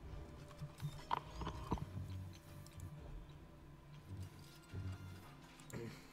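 Horse hooves clip-clop at a walk through a town in the Elder Scrolls Online video game, with faint, irregular knocks heard at a distance beneath quiet background ambience and no speech.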